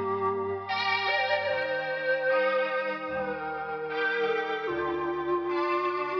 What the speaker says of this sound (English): adding some more color to it and some reverb, some flanger chorus